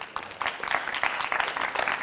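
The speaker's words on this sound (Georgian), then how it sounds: "აპლოდისმენტები ლუკას" Studio audience applauds a quiz-show contestant at the close of his timed round, with steady, moderately loud clapping throughout.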